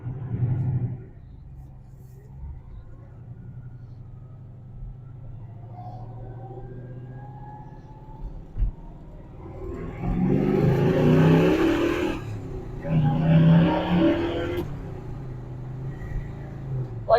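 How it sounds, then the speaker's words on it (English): A 1972 Chevrolet Nova engine idles with a low rumble while driving through a residential area, then revs up in two strong throttle bursts near the end, heard from inside the car. "car runs fine. You can hear it tacks up nice."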